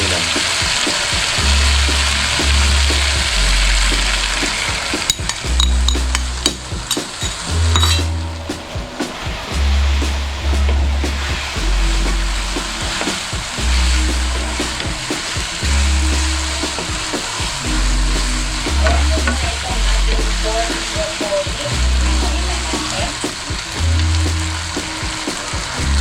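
Pork and broccoli stir-frying in a pan, with a steady sizzle and frying hiss throughout, plus occasional clinks of a utensil stirring against the pan.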